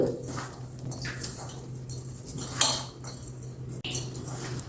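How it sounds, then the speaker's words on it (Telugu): A spoon scraping and clinking in a bowl while grated jaggery is mixed into a sweet khoa filling for kajjikaya, with scattered soft knocks and scrapes over a low steady hum. "బెల్లం ఇది వేసి బాగా కలిపేసేయండి"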